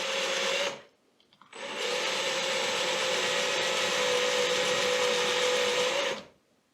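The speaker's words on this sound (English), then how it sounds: "I'll use this round wood router bit. No worries, I also put it in the drill driver." A drill driver fitted with a round wood router bit shapes a concave end in wood, whirring steadily at close range in two bursts, a short one then a longer run of about four and a half seconds, with a brief pause between.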